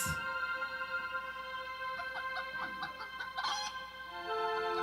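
A few soft clucks from a chicken, faint beneath a sustained musical tone, scattered near the middle and end.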